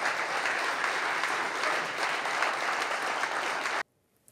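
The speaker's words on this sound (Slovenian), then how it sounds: "In tukaj prosim en aplavz," Applause from an audience at a Slovenian political event, a dense steady clapping that fills the space for nearly four seconds before cutting off abruptly into near silence.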